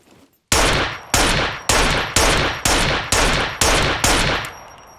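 Seven evenly spaced handgun shots in the survival game Scum, each a loud sharp crack with a short decaying tail, fired one after another without any voices.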